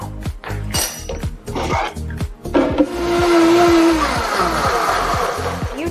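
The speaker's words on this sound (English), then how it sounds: "So I'm gonna blend this up." A blender whirs loudly for several seconds while blending a drink with reishi, cacao and chia seeds, preceded by clattering and sporadic knocks as it starts.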